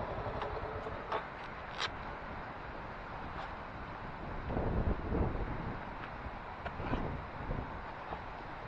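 Steady roar of strong wind at Talisay Beach, San Narciso, Quezon, buffeting the microphone, with low rumbling gusts swelling around the middle of the clip.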